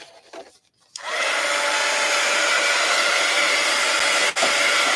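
A hair dryer switches on after a short quiet moment and blows a steady, loud whooshing roar over artwork, with a brief dip near the end.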